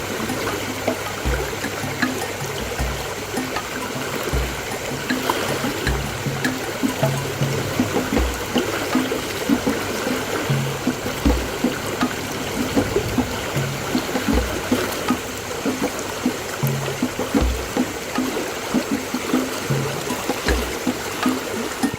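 A fast, strong river current rushes steadily and loudly up close, a continuous watery roar with small splashes, heard during fishing in harsh weather.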